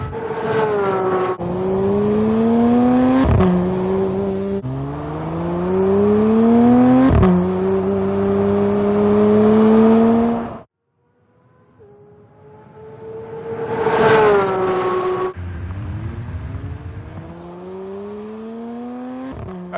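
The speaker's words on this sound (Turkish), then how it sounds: "motorun çok güzel ses çıkarmasına neden oluyor" A Porsche 911 GT3 with a 4.0 litre naturally aspirated engine revs hard through several rising pulls with sharp cutoffs, drops to a brief near silence, then screams up again, loud and close with no talking.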